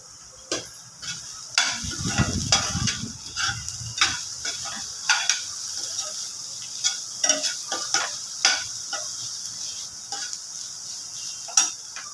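Masala with turmeric, coriander powder and salt stirred in a pan, with repeated scraping ticks of the spoon against the metal over a soft sizzle, fairly close and steady throughout.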